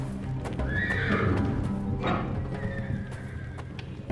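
In a video game set near fighting, nervous horses whinny in a couple of high, shrill neighs, with clopping hooves and shuffling close by in a stable.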